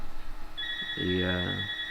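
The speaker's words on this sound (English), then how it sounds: "the phone's ringing, let my wife answer" Home telephone ringing, a brief tonal electronic ring with sustained high pitched tones, heard at moderate distance while a voice rises over it.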